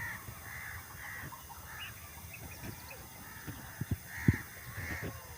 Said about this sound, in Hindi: और ये परिंदे वगैरह बैठे हुए हैं